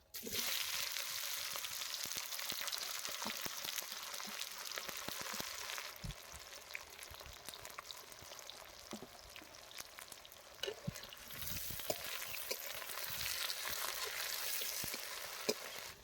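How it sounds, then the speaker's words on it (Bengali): Chopped onions added to hot oil already tempered with cumin, bay leaf and chilli, giving a continuous close sizzle and crackle with small pops, fairly quiet and steady throughout. "জিরে তেজপাতা আর লঙ্কা ফোড়ন হয়ে গেছে এখন আমরা কেটে রাখা পেঁয়াজগুলো দিয়ে দেবো"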